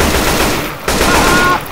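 Gunfire in the video game Left 4 Dead 2 rattles as a dense, continuous burst of shots with a brief gap, steady and loud throughout.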